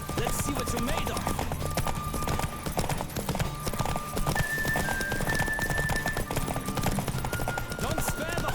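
A horse gallops in a race in the video game The Witcher 3, its rapid rhythmic hoofbeats pounding steadily and loudly over a continuous musical bed with sustained tones.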